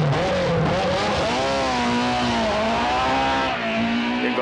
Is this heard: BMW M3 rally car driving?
yes